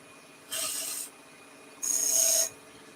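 A turning tool cuts small beads into a wooden spinning top on a lathe, heard as two separate bursts of raspy, scraping cutting, each about half a second long, with quiet gaps between them.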